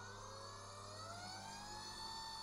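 A 24-volt electric scooter motor runs steadily with a sustained whine and layered tonal hum that rises slightly in pitch. It is heard alone, with no talk.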